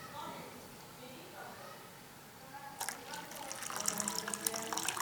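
Hot water is poured into a blender of thick blended rice batter: a soft voice speaks at first, then a bright, steady splashing pour starts and continues close up.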